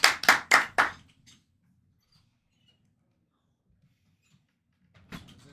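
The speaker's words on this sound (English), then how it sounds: "Applause for player number 5" Four sharp, evenly spaced hand claps during an online Mafia game league round, close and distinct, followed by near silence and a faint noise at the end.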